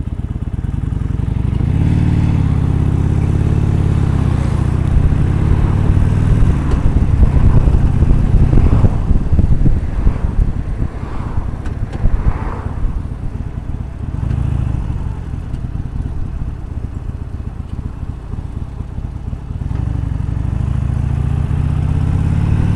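A Harley motorcycle rides along Sunset Boulevard in Los Angeles, its engine a loud, steady rumble that swells and eases with throttle changes, mixed with wind and passing traffic noise throughout.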